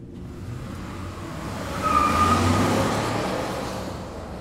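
Car engine in an alien invasion video game, a steady broadband motor drone with a faint tonal whine that swells louder around the middle and then slowly eases off, with no talk over it.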